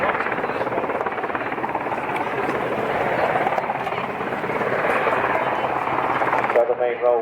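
A Royal Air Force search and rescue helicopter hovers at a seaside air show, its rotor and engine roar filling the air steadily while an announcer talks over it.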